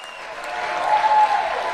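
Audience clapping and applauding at a presidential speech event on ending taxes on tips, a steady wash of crowd applause rising briefly then holding.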